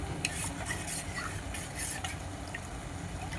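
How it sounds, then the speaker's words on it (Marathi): A spoon stirs a spice mixture into water in a metal pot for a traditional Vidarbha dish, with repeated light clinks and scraping against a hissing background. "पूर्ण पाण्यामध्ये असं मिक्स करायचं"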